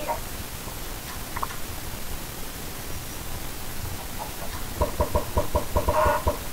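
A chicken in the video game Minecraft clucks in a quick run of short, evenly spaced pulses near the end, rising out of a steady hiss of background noise.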